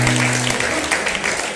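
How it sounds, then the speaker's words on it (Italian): Dense, steady applause fills a live music night at a bar venue, a full crowd clapping at close range after a song as low instrument tones fade out at the start. "Fatemi un applauso."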